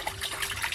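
Live snakehead fish thrashing and splashing water in a container, a steady wet spattering and dribbling that stays close and fairly even throughout, with no voices.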